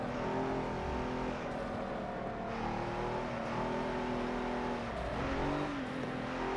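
A race car in the video game Forza Motorsport 7 roars along the track, its engine note climbing and dropping through gear shifts, loud and close throughout, with other cars faintly behind and no talking.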